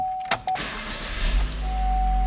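Power window motor of a used Chevrolet Spark, a short click followed by a steady electric whir as the glass travels, heard close inside the car.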